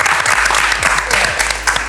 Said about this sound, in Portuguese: É uma salva de palma, né?